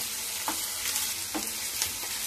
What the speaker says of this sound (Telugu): అల్లం వెల్లుల్లి పేస్ట్ పచ్చి వాసన పోయే వరకు ఇలా కలుపుకుంటూ వేయించుకోవాలండి।